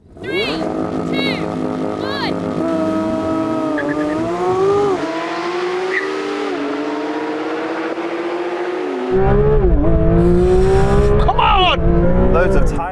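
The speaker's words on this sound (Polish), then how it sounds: "Dużo poślizgu." A Porsche 911 GT3 RS and a Maserati MC20 racing, with loud engines revving and shifting pitch, tires squealing in wavering bursts, and a heavier roar surging near the end.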